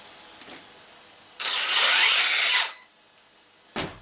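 A brief high-pitched whir from the electric motor of an Arrma Kraton V5 RC car revs up for about a second and cuts off, with a short mechanical click before and after.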